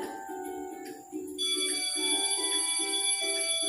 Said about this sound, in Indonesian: bunyi bel menandakan jam istirahat sekolah. Bunyinya terdengar nyaring di telinga.